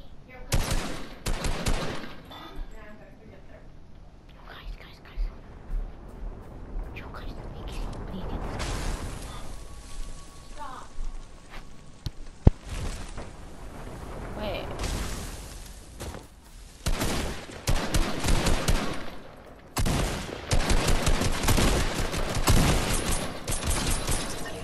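Gunfire in Fortnite rattles in rapid bursts and single pistol shots, interspersed with whooshes and booms, loud and dense under a player's excited talk.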